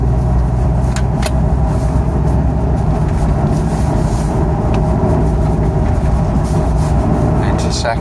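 A Jeep Cherokee Liberty KJ with the 2.8 diesel engine idling and running in first gear, a loud, steady low rumble with a few light clicks from inside the vehicle.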